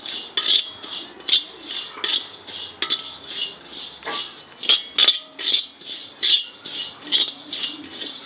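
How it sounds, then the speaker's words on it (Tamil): Roughly a hundred grams of cumin seeds dry-roasting in a pan for homemade kuzhambu chilli powder, stirred with a utensil that scrapes and clinks against the metal in a steady repeating rhythm, close and fairly loud, with no talking. "நம்ம சீரகம் வறுத்துக்கலாம்."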